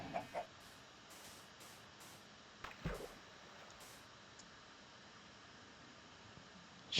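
A few short clucks from a Minecraft chicken, from the Alpha v1.0 era of the game. They come as brief bursts near the start and again around the middle, over a faint steady hiss, and are fairly quiet.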